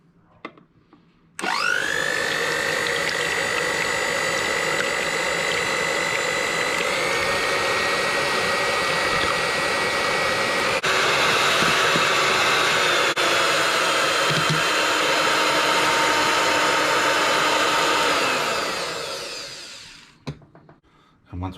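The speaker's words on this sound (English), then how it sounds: "Going to whack our egg whites. So there were 6 of those, same as the yolks. I'm just going to beat them up." Electric mixer beating six egg whites in a bowl: a steady, close motor whine that runs without a break for about eighteen seconds, then winds down and stops.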